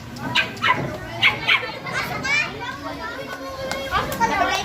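A dog barks in sharp bursts amid a noisy outdoor scene, with children shouting and talking over and around it.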